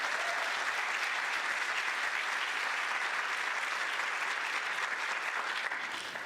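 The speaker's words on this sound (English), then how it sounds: "Let's give them a round of applause," Sustained applause from a conference audience at a Nashville history and culture event, a dense, even wash of clapping throughout with no break.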